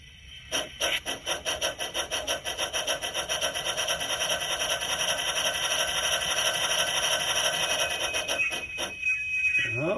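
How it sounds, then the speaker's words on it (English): Model Climax steam locomotive pulling forward with rhythmic chuffing that speeds into a steady, gritty mechanical rush, ending with a brief high brake squeal as it stops. No talking. "Brake squeal and everything."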